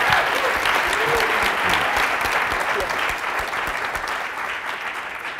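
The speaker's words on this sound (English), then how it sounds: "So please give them a round of applause." A crowd at a speaking event breaks into sustained applause, dense and close at first, then tapering slightly as the clapping carries on to the end.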